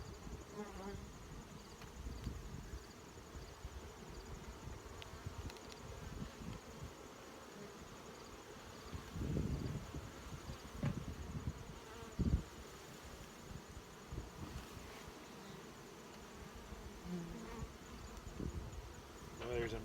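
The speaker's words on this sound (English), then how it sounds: "There's a mass of bees in this colony." Honeybees swarm and buzz in dense numbers in an opened hive colony, a steady close drone with occasional louder passes near the microphone and faint background noise.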